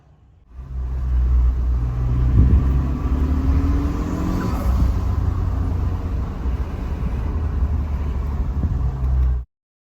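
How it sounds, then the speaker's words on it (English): A turbocharged 1.5-litre Suzuki Jimny engine cranks, catches and settles into a loud, steady idle, a close and constant low rumble with a faint rising whine before it cuts off abruptly. "will this engine start right up or will it blow up in my face?"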